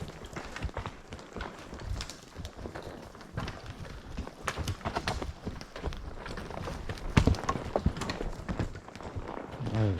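Horse hooves thud and scrape unevenly on a steep mountain trail in Montana backcountry, close and irregular, mixed with rustling and shuffling movement.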